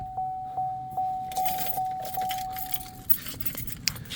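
Keys for a 2007 Cadillac DTS jingle and clink close by in a few short shakes, followed by brighter metallic rattles.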